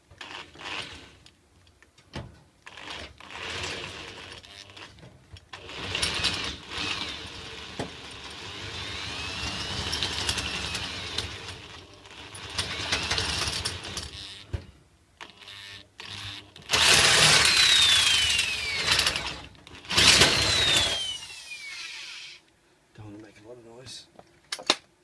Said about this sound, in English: Drill through this one, drill through the next one.